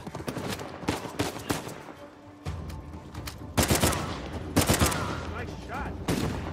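Gunfire in the video game Uncharted 4: scattered sharp shots and bursts, some loud and close, ringing out over a low background rumble with brief pauses between volleys.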